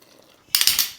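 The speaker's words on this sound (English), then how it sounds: "Stir it up" A utensil stirs a pot of boiling water with bouillon and seasonings, giving a few quick metallic scrapes and clinks after a quiet moment, close and fairly sharp.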